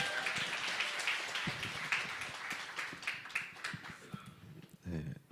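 Church forum audience applauding to welcome the next pastor to the stage, a dense, steady wash of many hands clapping that carries on for several seconds, with a few sharper claps and a brief voice near the end.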